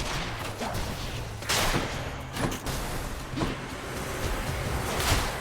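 Bomb blasts in the action game Hades, several sharp explosive bursts spaced a second or so apart over a busy, fairly quiet game backdrop.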